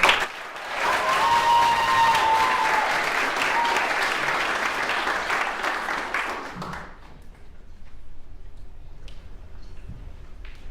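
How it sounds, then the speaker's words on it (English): A community meeting audience claps to welcome speaker Tessa Zimmerman, a full roomful of hands going for about six seconds before fading out, leaving quiet room sound and a few faint stray noises. "please join me in a round of applause in welcoming Tessa Zimmerman"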